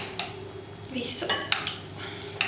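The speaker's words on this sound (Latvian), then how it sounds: "uzmanīgi samaisam" Potato salad being gently stirred in a bowl, with a few soft clinks of a utensil against the dish and light scraping, close and quiet over a faint steady background hum.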